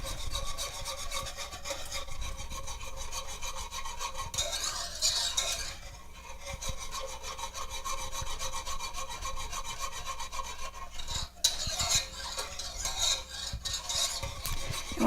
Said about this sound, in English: we're just mixing it until it comes to a simmer